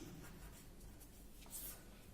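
Someone writes on a board or paper during a mechanical engineering lecture on coupling design, a faint, continuous scratchy stroke sound over low room noise.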